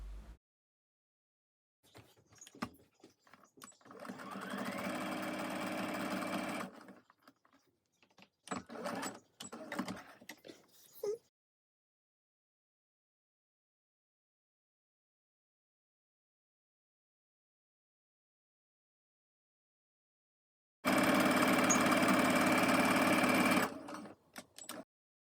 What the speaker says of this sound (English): So just sew on each side of the handles right by the edge.